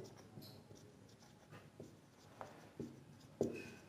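A pen scratches faintly across paper while a math solution is written out, with soft strokes and a few sharper taps, close but quiet.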